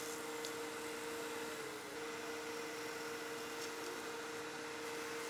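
A vacuum cleaner drones steadily at low volume, clearing wood shavings from a pen-blank lathe around the bushings, with a continuous whine and no speech.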